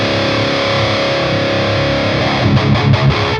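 A heavily distorted electric guitar chord rings from an ENGL lunchbox amp while its presence control is turned, ending in a few palm-muted chugs.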